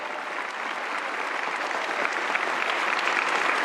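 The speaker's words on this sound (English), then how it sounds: "Give yourselves in this institution a huge round of applause." Sustained audience applause fills a commencement ceremony hall, a dense steady wash of clapping from a large crowd that holds loud and even throughout without a break.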